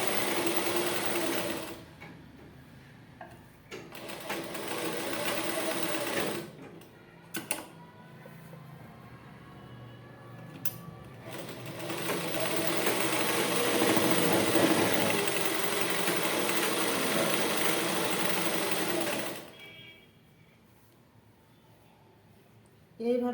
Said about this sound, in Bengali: এইভাবে আমি ঘুরিয়ে আবার এদিকটা নিয়ে চলে আসছি সেলাই করে